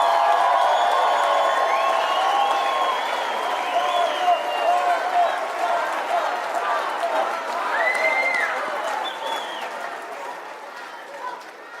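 Audience at the CPAC conference applauding and cheering throughout, a dense crowd of clapping with occasional whoops, steady and fairly loud, fading slightly toward the end.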